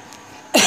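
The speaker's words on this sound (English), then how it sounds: "I'm coughing." A single sudden, harsh cough bursts out close and loud at the end of a quiet moment.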